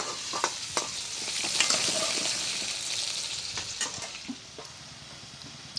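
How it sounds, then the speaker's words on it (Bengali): Potato pieces sizzle and crackle in hot oil in a wok, a steady frying hiss broken by sharp clacks and scrapes as they are stirred. "আলুগুলো ভাজা হয়ে গেছে"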